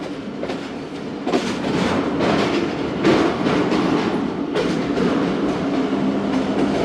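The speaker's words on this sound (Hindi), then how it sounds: "पहुंच रही है ट्रेन।" Awam Express passenger train (13 Up) rolls into Rahim Yar Khan station with a loud steady rumble, clattering wheel beats and occasional thuds as the coaches pass close by.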